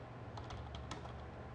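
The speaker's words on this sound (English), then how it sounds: "So if I start typing in" Typing on a computer keyboard while writing C++ code in the Emacs editor: a quick, irregular run of soft key clicks, close but faint over a steady background hiss.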